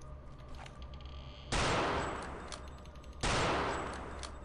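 Gunfire in the World War II shooter Return to Castle Wolfenstein comes as two loud, sudden blasts a couple of seconds apart, each decaying slowly over low game ambience.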